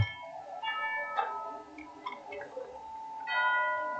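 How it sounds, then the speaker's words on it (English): In Genshin Impact, a bell near an elevator chimes with several bright ringing strikes spaced irregularly over a faint background hum, ending in a fuller ring. "You hear the sounds of a bell."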